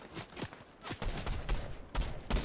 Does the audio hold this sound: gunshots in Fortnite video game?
yes